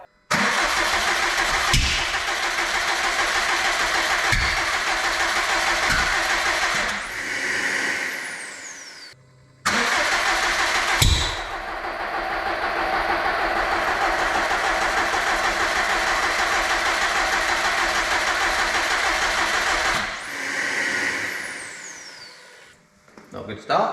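A Subaru Impreza GR STI 330S with a newly fitted engine cranks and starts, then runs at a steady idle. Its loud, even engine noise continues for most of the clip, broken by a short cut-out and a brief revving surge.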